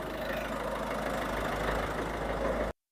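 A Peugeot 207 diesel engine idles steadily with a low, even rumble for nearly three seconds, then cuts off abruptly into silence.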